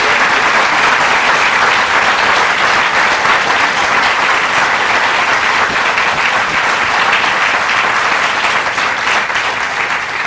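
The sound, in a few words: round of applause for students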